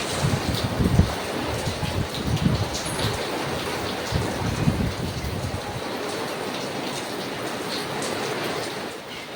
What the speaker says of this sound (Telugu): ఫుల్ ఫుల్ పడుతుంది ఫ్రెండ్స్ మామూలు లేదు చిన్న వర్షం కూడా కాదు చాలా పెద్ద వర్షము